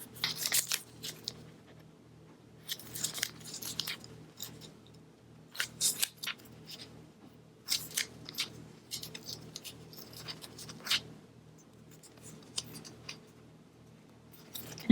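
Washi tape is folded into a ruffle and pressed onto a paper planner dashboard, making crisp crinkling and tapping bursts in short irregular clusters between quiet gaps, close and fairly soft.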